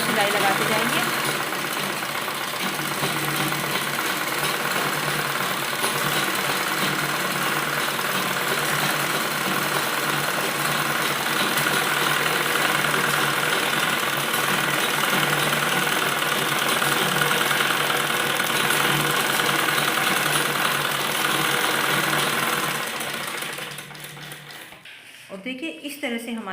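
An electric sewing machine runs steadily, stitching elastic into the waistband of a lined palazzo, a continuous motor whir with fine rapid needle chatter that holds for over twenty seconds before stopping near the end.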